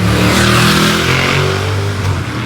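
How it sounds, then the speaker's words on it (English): A Ducati motorcycle riding through city streets, its engine a steady loud close drone that swells and eases slightly as it passes, with no voices over it. "a very random Ducati riding in the streets"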